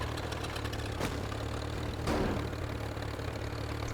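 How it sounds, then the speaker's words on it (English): A tractor engine in the video game Teardown idles with a steady low mechanical drone, fairly faint and constant, with a couple of brief clunks over the top and no talking. "Tractor."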